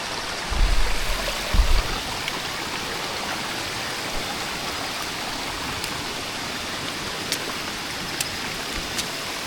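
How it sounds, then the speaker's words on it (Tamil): A stream in dense forest on the Agasthiyarkoodam trek keeps up a constant, even rush of flowing water nearby. A couple of dull thumps come early, and faint sharp ticks stand out over the steady wash. "மூணாவது ஸ்ட்ரீம் இது."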